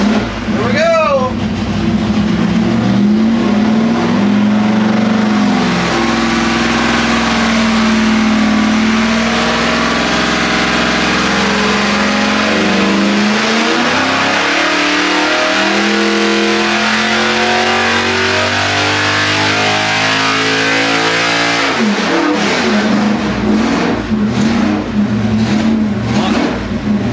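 A budget small block Chevy engine of around 600 horsepower runs loud and close on a test stand, holding a sustained high-rpm roar before it drops and surges back up in another rev.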